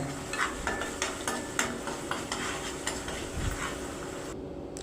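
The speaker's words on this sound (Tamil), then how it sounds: "அதையும் போட்டு கொஞ்சம் வதக்கிக்கலாம்." Ingredients for chilli parotta sautéed in a pan, a steady sizzle with repeated scraping and stirring strokes of a spatula at a regular rhythm, close and moderately loud, with no talk.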